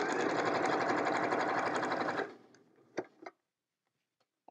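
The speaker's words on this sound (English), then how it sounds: "I can piece an entire quilt top without getting up from the sewing machine." A sewing machine stitches quilt-top pieces in a fast, steady, close-up whir that stops abruptly partway through, followed by a few soft clicks and handling noises, then near silence.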